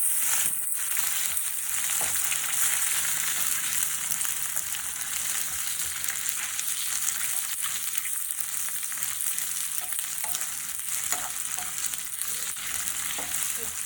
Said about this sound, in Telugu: ఆ తర్వాత ఉడికించి 4 ఎగ్గులు వేసుకొని ఫ్రై చేసుకోవాలి.